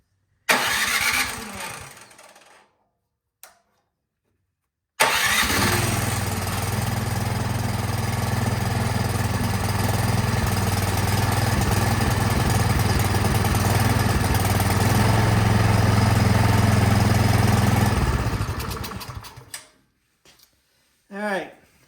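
A Craftsman snowblower engine, its carburetor just unclogged, cranks with a couple of short pulls, then catches and runs at a loud, steady idle for about thirteen seconds before shutting down, with brief speech around it.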